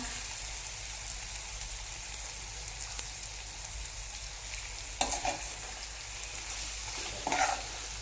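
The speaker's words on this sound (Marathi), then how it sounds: "आता हा व्यवस्थित मिक्स करून घेते" Kaleja, a liver fry, stirred in a pan over steady, close frying sizzle. Two louder scraping strokes of the spoon come near the end.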